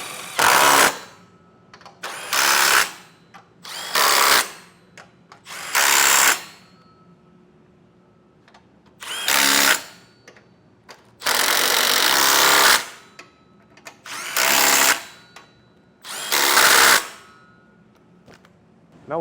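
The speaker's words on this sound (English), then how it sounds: "Now we'll just tighten everything down with that 15mm socket." A power tool with a 15mm socket drives down the bolts of a Blue Ox base plate kit on a 2013 Fiat 500, in about ten loud, rattling bursts of a second or two each, separated by short pauses.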